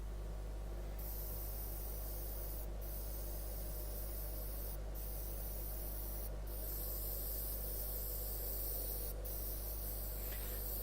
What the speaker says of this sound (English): But that's why a airbrush is a great tool for this, because you can easily control how much color you're going to put on.